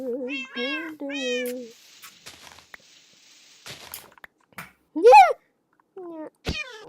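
A Minecraft cat meows several times, with drawn-out, rising and falling calls that are close and clear. Short clicks and faint rustling fill the gaps between the calls.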